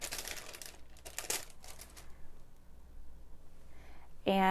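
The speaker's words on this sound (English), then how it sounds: "You just peel back the wax paper" Wax paper peels and crinkles off a candle in several short bursts of crackling over the first two seconds, close and fairly soft, with another crisp rustle at the end.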